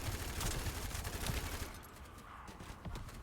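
Rapid machine-gun fire from The First Descendant shooter, a dense continuous burst of shots at moderate level that thins out slightly toward the end.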